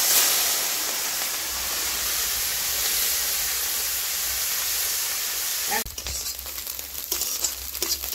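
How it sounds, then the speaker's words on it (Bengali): Shrimp sizzling in hot oil in a home kitchen pan, steady loud hiss and crackle for most of the span, then a sharper burst of spitting as more shrimp go in near the end. "তেল গরম হয়ে গেছে, চিংড়ি মাছগুলোকে ভাজতে দিয়ে দিচ্ছি।"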